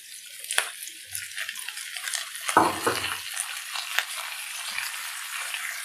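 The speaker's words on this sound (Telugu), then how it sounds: "పచ్చిమిర్చి, టమాటాలు కూడా వేసేయాలి." Green chillies and tomatoes hit a hot oiled pan with a loud, close sizzle that surges around the third second, then settles into a steady fry with light stirring, with no voices.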